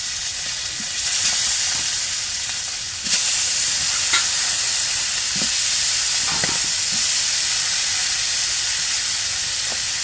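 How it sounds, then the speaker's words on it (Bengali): Tilapia fish pieces frying in hot oil in a home kitchen, a steady loud sizzle with occasional stirring clinks and bursts of spatter, no talking. "এখন আমি মাছগুলো তেলে ভেজে নেব"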